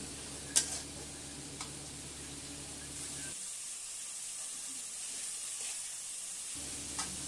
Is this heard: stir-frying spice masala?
yes